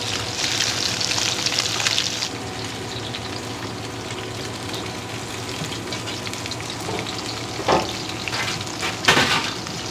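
Scaled tilefish (amadai) frying in hot oil, with a dense, crackling sizzle that is strong at first, then steadier, with a few sharp spitting bursts near the end, close and with no voices.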